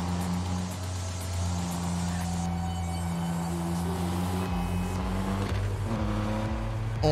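A car driven in the game Neverness to Everness hums with a steady engine drone and shifting pitch, joined by game music and a brief clunk near the end, loud and continuous without talking.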